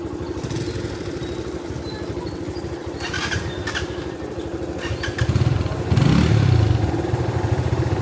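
A motorcycle engine runs steadily nearby, rumbling loudly throughout with a rise in revs toward the end and some clattering on top.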